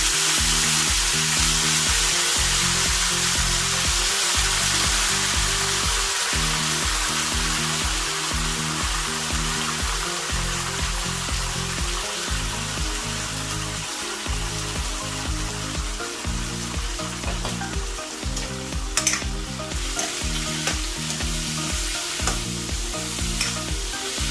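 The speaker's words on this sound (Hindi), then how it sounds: "अब मैं इसमें डाल दूंगी आलू, क्योंकि प्याज है नहीं मेरे पास, तो मैं डालूंगी इसमें आलू।" Potatoes frying in a pan with cinnamon, a steady loud sizzle broken by repeated scraping stirs throughout.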